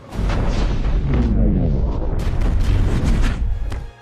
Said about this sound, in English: We hear the explosion before we even see it.